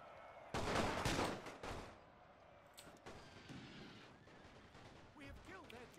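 Musket volley fire in a Napoleonic battle from the game Napoleon: Total War, a loud dense burst of massed gunshots followed by scattered distant firing and battle noise.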